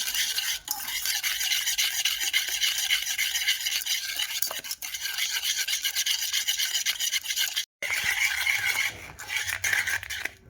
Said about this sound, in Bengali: এবারে ডিমটির সাথে চিনিটাকে ভালোভাবে মিশিয়ে নেব।